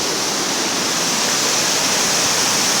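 Floodwater pours off a stretch of canal in a steady, loud, close rush like a small waterfall, with no talk over it.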